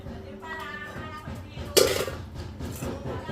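Dishes and pots clatter in a home kitchen while someone fetches a container during chicken tinola prep, with one sharp louder clank midway amid quieter clinks and background voices.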